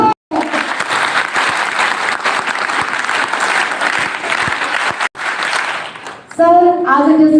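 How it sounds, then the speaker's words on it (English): An audience claps in a loud, sustained round of applause filling a school hall at an energy awareness event, with a brief lull before a voice speaks over the crowd near the end. "Claps."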